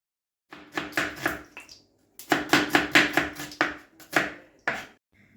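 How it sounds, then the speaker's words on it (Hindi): Two large onions are chopped with a knife on a board in quick bursts of crisp, close chops, with short pauses between runs and no voices. "और 2 बड़े साइज़ के प्याज हैं, वो अब मैं काट रही हूँ"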